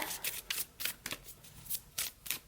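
Playing cards riffle-shuffled in a sped-up sequence, with seven or eight quick crisp bursts of shuffling in a steady rhythm, close and clear with no voices.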